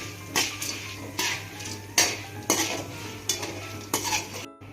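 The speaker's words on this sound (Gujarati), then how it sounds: "એને પણ આપણે થોડોક નાખીશું અંદર. અને એને બરાબર મિક્સ કરી દઈશું." A spoon scraping and clinking against a pan while coriander and curry leaf powder is stirred into green poha chevdo, about seven regular strokes close by with no talk.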